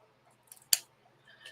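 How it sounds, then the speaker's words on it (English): Scissors cutting paper in a crafting session, a quick close snip with a sharp crisp cut in the middle, with faint rustling before and after. "just cut them equal"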